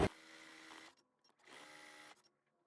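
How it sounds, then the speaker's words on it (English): A sewing machine stitches a quilt seam for a quilt-as-you-go Dresden tree skirt, running in two steady whirring bursts of about a second each with a short pause between, fairly quiet and with no talking. "So we're going to sew this seam."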